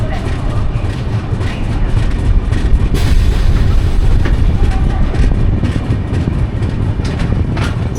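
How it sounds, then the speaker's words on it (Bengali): A passenger train on the Kolkata to Jammu Tawi route runs along the tracks, giving a loud, steady rumble with a rhythmic clatter heard from on board. It carries on for the whole stretch with no talk. "ট্রেন ছেড়ে দিচ্ছে"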